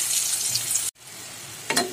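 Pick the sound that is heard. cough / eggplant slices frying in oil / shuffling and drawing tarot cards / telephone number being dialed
eggplant slices frying in oil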